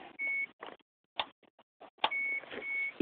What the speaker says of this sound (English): if you have a Geo Metro and the door light switches, that's that beep you're hearing right now